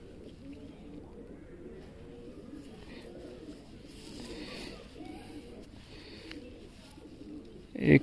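Pigeons cooing, soft repeated low burbling calls at a moderate distance that continue for several seconds, with a sharp louder knock near the end.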